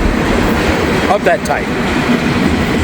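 A freight train rolling past on rails, making a loud, continuous rumble and rattle close by, with brief squeals of wheels and a voice in the background.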